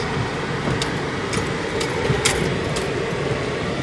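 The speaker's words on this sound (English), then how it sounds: "Truck is just warming up, so the AC is doing its thing." A 1994 Jeep Cherokee idles while warming up, a steady low engine hum mixed with air conditioning blowing, with a few faint clicks and rattles and no talking.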